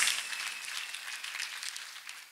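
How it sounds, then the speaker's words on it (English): An audience claps at a church testimony, a brief dense patter of applause fading slightly over a couple of seconds. "Continue to clap for Master Jesus."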